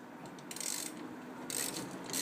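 A wrench turns a ball joint press to tighten it while pressing in a ball joint on a Jeep WJ, giving quiet repeated ratcheting clicks in short bursts close by.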